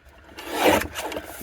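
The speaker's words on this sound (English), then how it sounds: "we do need to trim this down so that we can get it on a card base" Cardstock is trimmed to size on a paper trimmer with one short, close, raspy slide of the blade along the sheet.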